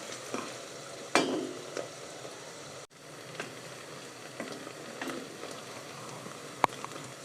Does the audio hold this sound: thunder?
no